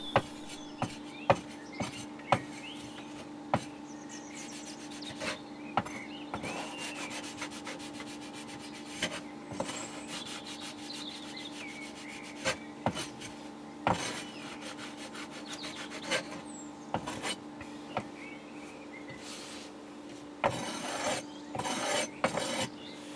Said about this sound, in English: The excess sand is then scraped away to ensure you have a flat bottom on the cope.